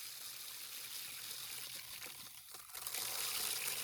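Water from a siphon hose trickles and pours steadily into a bucket, a faint continuous liquid flow that grows slightly louder near the end.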